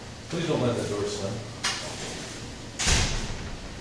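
A door thuds shut in a lecture room, and a couple of further bumps and a sharp knock follow over a low murmur of room noise.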